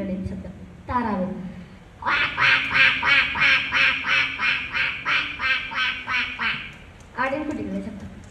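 A mimicry artist on a Kerala stage imitates a duck with his voice, producing a long, rhythmic run of loud nasal quacks, about a dozen in a row, framed by brief vocal sounds before and after.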